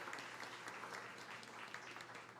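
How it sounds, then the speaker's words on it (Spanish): Faint, distant applause from a congregation at Sunday mass in a parish church, a continuous wash of many hands clapping. "Un fuerte aplauso para ella"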